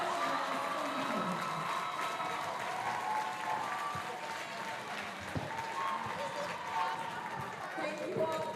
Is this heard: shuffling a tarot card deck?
no